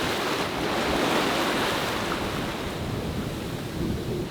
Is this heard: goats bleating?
no